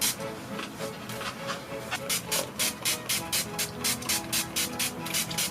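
A NYX matte finish setting spray is misted over a face in a rapid run of about a dozen short, soft hissing spritzes, close and fairly quiet.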